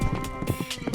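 A galloping horse during a mounted archery run, with rhythmic hoofbeats pounding close and loud in quick repeated bursts across the short stretch.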